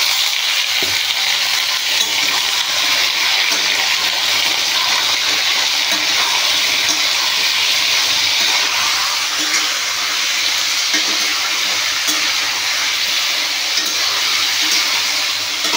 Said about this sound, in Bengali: এরপর আমি কুমড়ো আলু দিয়ে দেবো